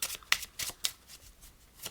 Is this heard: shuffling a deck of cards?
yes